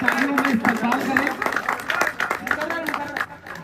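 Audience clapping rings out at a mushaira poetry gathering in Jalgaon, a burst of applause layered with a loud voice speaking over it throughout.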